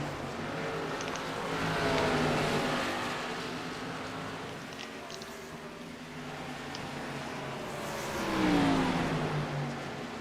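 Race cars circle the Richmond track, engines swelling and fading as they pass, with two louder revving sweeps rising above a steady mid-distance roar.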